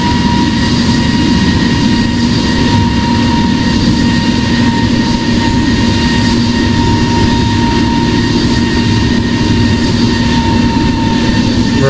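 Simulated Airbus A350 engines in Singapore Airlines livery roar through a takeoff roll in the game Project Flight: a loud, steady, unbroken rumble with a sustained tonal whine layered on top, and no voices.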